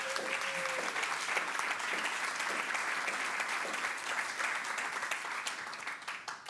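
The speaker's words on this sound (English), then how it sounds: "So just if y'all could give them a round of applause." An audience at a documentary film event breaks into steady, continuous applause that holds at an even level and then starts to fade near the end.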